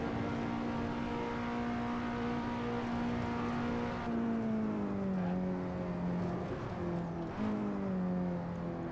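A KTM race car engine in a racing video game holds a steady, loud drone, then its pitch dips and climbs again through gear changes as it accelerates. No voices are heard.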